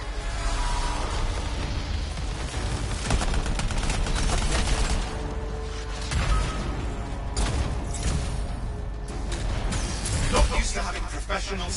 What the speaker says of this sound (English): Professional soldiers shooting us